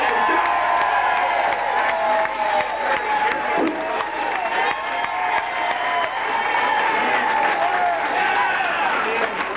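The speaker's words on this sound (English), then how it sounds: "how about a round of applause for both these wrestlers over the house?" An audience at a live wrestling event applauds and cheers both wrestlers, dense steady clapping with scattered whoops filling the room throughout, close and fairly loud.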